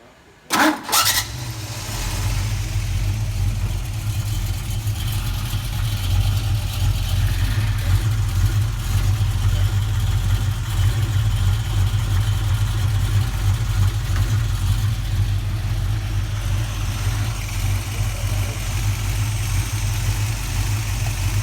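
A 1973 Ford Mustang fitted with an AOD automatic transmission idles in neutral, a steady, loud low rumble after a brief start-up burst, continuing evenly throughout.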